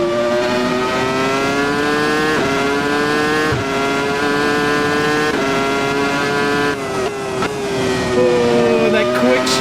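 An F1 car at Suzuka in a racing game, its engine note loud and continuous, climbing in pitch and then dropping sharply at several quick gear shifts.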